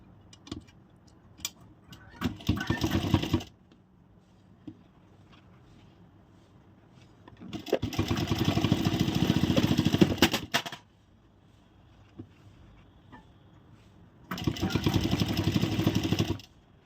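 Sewing machine stitching a shirt collar, three separate bursts of rapid, close mechanical rattling separated by near-silent pauses with faint handling clicks.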